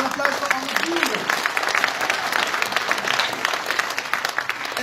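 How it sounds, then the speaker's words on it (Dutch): A Dutch evening event audience in Leiden applauds a performer, dense sustained clapping from a large crowd with brief voices mixed in at the start, loud and steady for the whole stretch. "Dames en heren, applaus voor Anne Buren."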